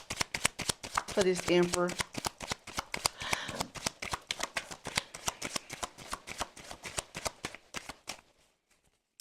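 Tarot cards are riffled and shuffled up close in rapid bursts of crisp flicks that slow and fade out, while someone talks over the opening seconds.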